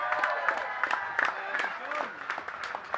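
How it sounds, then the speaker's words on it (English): Audience applause at a chilli eating contest at a chile festival at Eastnor Castle, with scattered claps and cheers rising over the crowd while a host's voice carries through the noise. "please give Elle a round of applause"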